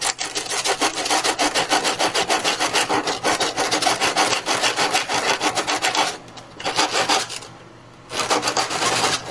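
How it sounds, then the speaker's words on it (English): Steady back-and-forth sanding rasps against a wooden model airplane's rear fuselage as bumps are smoothed off, a dense rhythmic scratching that pauses briefly twice near the end, close and alone. "Now we gotta sand off these bumps here."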